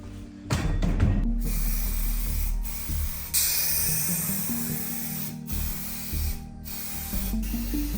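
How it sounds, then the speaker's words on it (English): Spray gun laying down an initial primer coat on a disassembled V8 spring motor machine, with a loud, steady hiss that runs almost continuously and is broken by a few short pauses between passes. "We apply an initial primer coat."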